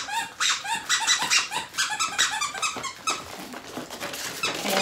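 A squeaky dog toy is squeezed repeatedly, giving a rapid series of high, bright squeaks in uneven bursts, fairly close and without talking.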